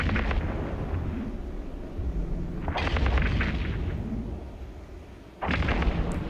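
A spaceship blows up in the space game EVE Echoes as a deep, heavy rumbling explosion. A second burst comes about halfway through and a third near the end, each over a steady low roar of battle.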